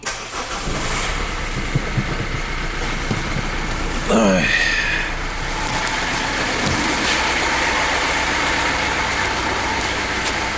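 A diesel car engine is cranked and catches with a short rising whine midway, then settles into a steady, close idling rumble. Faint voices sit underneath the engine noise.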